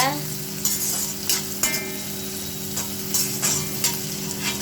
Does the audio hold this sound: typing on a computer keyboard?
no